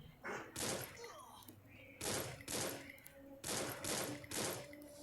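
Gunfire in a video game: several bursts of sharp, rapid shots in separate clusters, moderately loud, with a person speaking between them.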